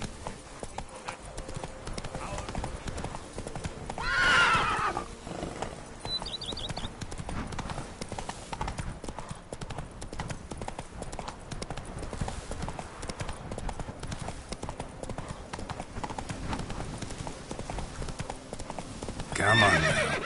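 Geralt's horse Roach in The Witcher 3, hooves clip-clopping in a steady galloping rhythm with loud whinnies near the start and end, over low ambient game sound.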